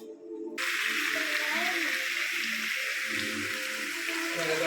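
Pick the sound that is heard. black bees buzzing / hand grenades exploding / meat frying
meat frying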